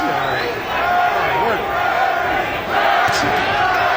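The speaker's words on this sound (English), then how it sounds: "Crowd once again chanting for Donald Curry." A boxing arena crowd chants for Donald Curry during his 1991 fight with Terry Norris, a loud, sustained rhythmic roar of many voices that swells and fades with steady background din.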